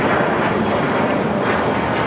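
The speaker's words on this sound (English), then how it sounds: "United Airlines flight 2445 at 737-900 ER" A United Airlines Boeing 737-900ER airliner arrives at LAX, its engines a loud, steady broadband roar that fills the scene without pause, close overhead.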